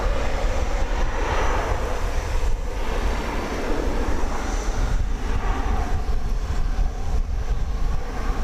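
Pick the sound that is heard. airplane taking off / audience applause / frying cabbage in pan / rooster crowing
airplane taking off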